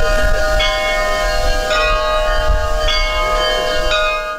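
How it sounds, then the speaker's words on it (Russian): Church bells in a Russian village peal after the Trinity Day service, with steady ringing strokes roughly every second over a sustained metallic hum, loud and close, and no voices. "Колокольный перезвон возвещает окончание церковной службы ко Дню Святой Троицы."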